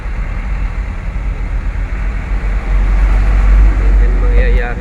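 Road traffic at the Baldipuente bridge, where bridge construction is underway: a steady, loud low rumble of passing vehicles that swells toward the end, with a faint higher whine near the close.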